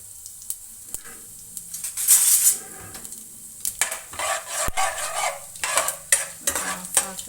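Chana dal, urad dal and mustard seeds fry in hot oil, a soft crackle and sizzle punctuated by sharp pops and utensil clinks against the pan, close up.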